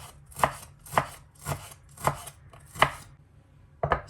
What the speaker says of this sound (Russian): Оно немного подмороженное, так просто легче будет нарезать мясо на кубики.